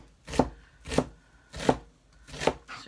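A knife chops a red onion on a board in four evenly spaced thuds, each a crisp crunchy knock, close and clear with quiet gaps between strokes.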